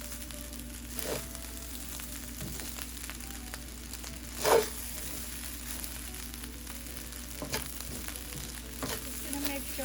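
Shrimp fried rice sizzles in a hot pan as it is fried and stirred, a steady close hiss broken by occasional scrapes and one louder clatter of the utensil partway through.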